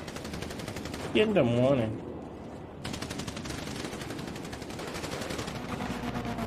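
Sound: gunfire in GTA video game

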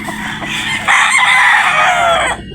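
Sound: gamecock rooster crowing, Sweater Boston bloodline

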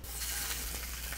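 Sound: food frying and sizzling in a pan

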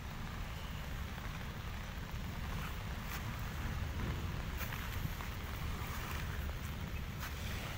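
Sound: rain

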